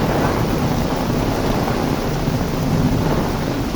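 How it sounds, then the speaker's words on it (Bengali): Heavy rain pours down in a dense, unbroken roar, loud and close from start to finish, with no distinct thunderclap standing out. "আর বৃষ্টির শব্দটা কি সুন্দর লাগতেছে।"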